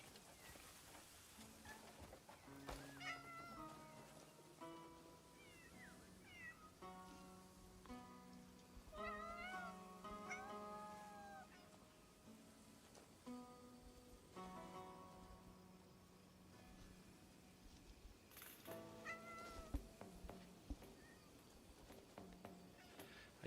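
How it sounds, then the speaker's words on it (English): Cats meow repeatedly in the open-world game Crimson Desert, several short pitched mewls scattered over soft outdoor ambience that sounds like light rain, moderately close with no talk. "Kitties."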